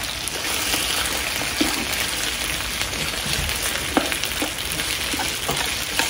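Beef frying in butter in a pan gives off a steady, close, crackling sizzle with scattered pops and the occasional stir, continuous for several seconds with no talk.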